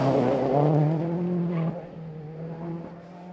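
A Ford Focus WRC rally car with a clutch problem revs hard at a junction on a rally stage, loud close engine notes rising and dropping as it turns, with a brief tyre squeal.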